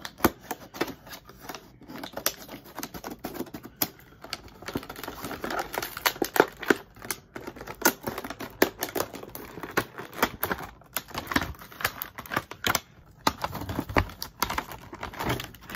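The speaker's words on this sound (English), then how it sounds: "so I'm gonna like try to like cut the side." Cutting open the side of a cardboard toy box, a long run of close, faint irregular snips, scrapes and cardboard crackles with no talking.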